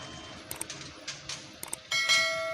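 An electric bell wired up for a laundry rings out after a few soft clicks of pressing the button, a steady buzzing tone that starts abruptly and continues loud and close to the end.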